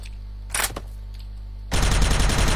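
Video game gunfire: a short burst of shots early on, then a louder, dense run of rapid automatic fire toward the end, close and harsh over a steady low hum, with no talk.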